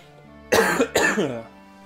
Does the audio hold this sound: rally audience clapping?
no